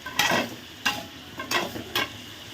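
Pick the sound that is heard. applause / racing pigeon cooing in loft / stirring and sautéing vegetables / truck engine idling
stirring and sautéing vegetables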